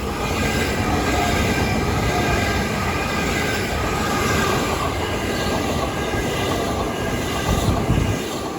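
Two Class 375 electric trains pass through New Cross station with a loud, close, continuous roar and wheel rumble that stays strong for the full stretch, with no talk.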